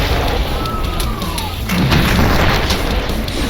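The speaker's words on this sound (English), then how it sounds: "The Demon's Bane's cluster grenade" A Demon's Bane cluster grenade goes off in Doom, a loud, dense blast that rumbles on without a break, swelling into deeper booms partway through, with faint whistling debris early on.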